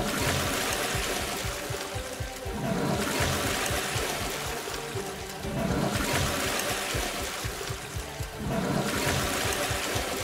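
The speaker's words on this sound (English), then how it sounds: "last words when we flush you down the toilet" Cartoonish toilet flush in the Roblox video game: a loud rushing, gurgling water surge that repeats in three steady looping waves with no talk.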